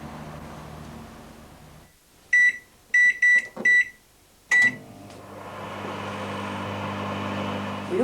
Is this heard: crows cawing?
no